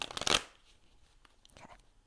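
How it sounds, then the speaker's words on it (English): Tarot cards shuffled by hand in a quiet room: a quick loud riffle burst, then soft scattered taps and slides of cards being settled. "I'm being guided to shuffle one more time."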